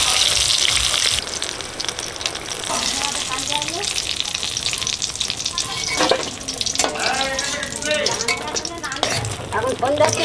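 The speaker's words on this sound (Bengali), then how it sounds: "বেগুন ভাজা হয়ে গেছে" Brinjal frying in hot mustard-style oil left from frying fish, a loud continuous crackling sizzle with bursts of spattering and occasional stirring clatter throughout.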